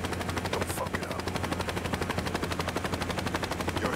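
A helicopter in the video game Saints Row, its rotor chopping in a fast, loud, steady rhythm close by, with a brief hiss early on and no speech.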